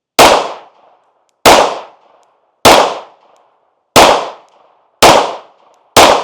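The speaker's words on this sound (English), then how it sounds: "So we'll go ahead and get another 5-shot group down on the speed bag." Six sharp pistol gunshots fired at a steady pace, roughly one per second, from a handgun fitted with a red dot sight on a shooting range, each loud crack followed by a short decaying tail, with no talking.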